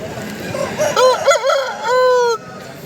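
A rooster crows loudly nearby at a village poultry market, a drawn-out call rising and falling, with low background noise and faint clucking around it.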